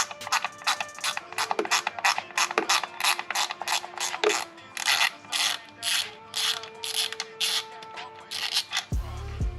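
A ratchet driving a T25 Torx bit to remove a fastener on a Ford Fiesta ST, a quick series of close, sharp mechanical clicks in bursts, ending with a brief clunk.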